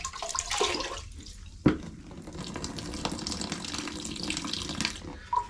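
Water from a tap pours steadily into a bucket holding grout powder for a shower grout repair, a continuous splashing flow with a sharp clunk partway through.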